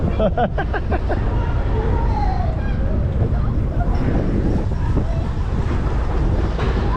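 An old roller coaster at Europa Park rumbles and rattles along the track in a steady loud roar, with riders talking and calling out over the noise close by.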